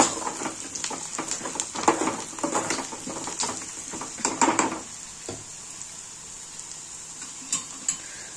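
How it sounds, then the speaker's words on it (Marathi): Onion sautéing in a pan for a Marathi-style leftover chapati kuskara, with a steady sizzle and repeated stirring scrapes of a spoon against the pan, brisk at first and then quieter, with a few isolated clinks near the end. "कांदा छान परतत आला"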